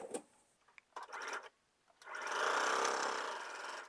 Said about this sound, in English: I'm going to begin to sew the next row